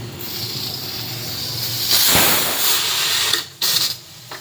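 A pressure cooker whistle releasing steam in a home kitchen, a steady loud hiss that swells, then cuts off abruptly with a couple of short sputtering bursts at the end.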